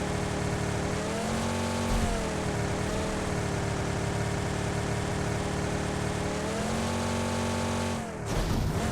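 A car speeds along in a driving video game, its engine holding a loud, continuous high-revving drone whose pitch shifts up and down with gear changes, then drops briefly near the end before roaring again.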